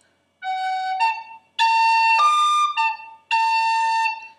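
A high, bright whistle plays a short tune in three phrases, with clear sustained notes, some slurred together, and brief pauses between.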